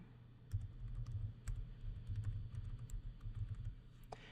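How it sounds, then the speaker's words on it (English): Quick, light key presses tap out a short string on a computer keyboard while typing a web address, clicking in uneven bursts, close and quiet, with one sharper key strike near the end. "Open Google Chrome and in the address bar type keep.google.com"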